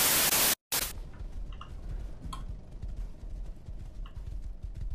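Horse in the video game Minecraft, soft repeated hoof clops and ticking over a static-like background after a loud burst of noise at the start.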